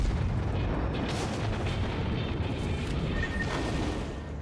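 Naval gunfire from a Tier II cruiser, the Chikuma, in the World of Warships game during battle: a dense stream of booming, rumbling shots under continuous roar, moderately loud throughout with no clear voices.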